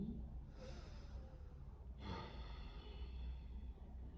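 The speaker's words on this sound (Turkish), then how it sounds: "burnumuzdan derin nefesler alıp verelim" Quiet, slow, deep breathing through the nose, two long audible inhales spaced a couple of seconds apart over a low background hum, during a guided ritual.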